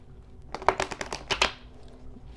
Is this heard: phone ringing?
no